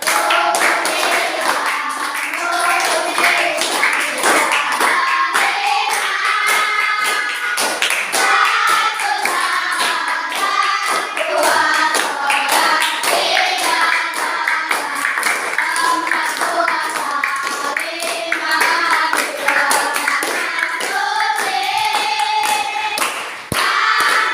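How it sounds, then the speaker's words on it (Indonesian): A classroom group sings an Islamic pillars song together in unison while clapping their hands in a steady rhythm, the claps and voices continuous and loud throughout. "Sambil tepuk tangan biar ramai"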